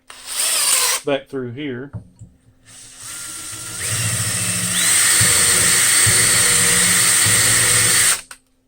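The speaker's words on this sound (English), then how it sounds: "So we'll run an 1/8 of an inch and 1/8 inch drill bit" An 1/8 inch drill bit bores an intersecting hole in a metal high-pressure fitting for common rail diesel testing, a steady whirring grind running for several seconds after someone speaks briefly.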